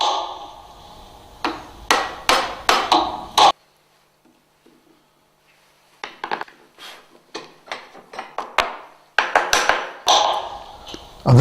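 A chisel is struck with a mallet to chop a mortise in timber, giving rapid bursts of sharp, woody knocks at close range, with a quiet pause and then lighter taps and more knocking, under occasional talk.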